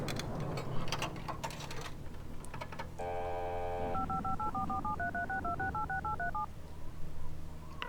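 A phone booth keypad in the video game Serious Sam: The Second Encounter sounds a string of touch-tone dialing beeps, one steady tone followed by a quick run of alternating pitched tones, clear over quiet game ambience.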